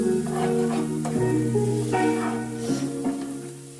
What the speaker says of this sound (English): Finally, I like to throw in the frozen peas. As soon as the peas hit the pan